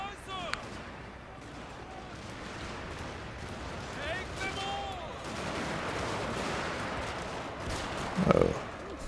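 Massed musket volleys from troops in Total War: Shogun 2 – Fall of the Samurai crackle as a dense, continuous rattle of distant gunfire with a louder burst near the end, while someone talks over it.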